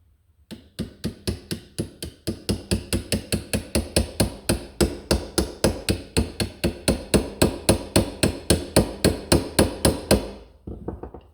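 A hammer taps bearings into place on a roller, striking dozens of sharp, evenly spaced metallic knocks in a steady, brisk rhythm. The strikes are close and loud, with no talking.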